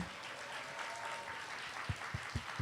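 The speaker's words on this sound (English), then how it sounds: "So let's hear a round of applause for our first faces" A fashion show audience applauds in a continuous wash of clapping, fairly distant and even, with a few louder, sharper thumps coming through near the end.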